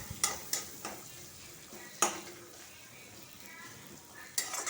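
Four or five garlic cloves and two onions fry in a pan with a soft, steady sizzle, broken by a few sharp scrapes and clinks of stirring.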